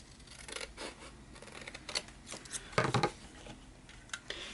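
Scissors trimming paper for a junk journal tag holder, with several short snips and rustling cuts at close range, quiet and intermittent with no talking.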